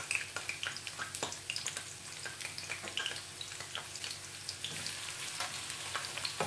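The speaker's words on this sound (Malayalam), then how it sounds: "ഇപ്പം ഞാൻ നെയ്യ് മൂപ്പിച്ചു, അതിനകത്തോട്ട് ആദ്യം തേങ്ങാക്കൊത്ത്" Coconut pieces fry in hot ghee for a broken wheat payasam, giving a soft, crackling sizzle with many small pops and spits throughout, fairly quiet and close, with no voices.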